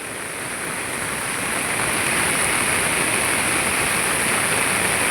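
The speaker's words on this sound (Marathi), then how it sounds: "पूर्ण भरून पाणी जातोय मोऱ्यांमधून पण" Flooded river water in heavy monsoon rain on the Konkan coast rushes through full culvert pipes, a dense roaring hiss that stays loud and constant throughout, with no voices.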